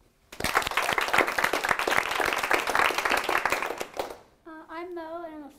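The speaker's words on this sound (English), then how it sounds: "everybody should just meet it with thunderous applause" An audience at a design review presentation bursts into loud, dense clapping that lasts about four seconds, then fades as one person starts speaking.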